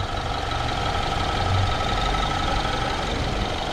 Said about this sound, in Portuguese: Eu lembro do barulho do motor.